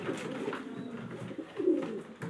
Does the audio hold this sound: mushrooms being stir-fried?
no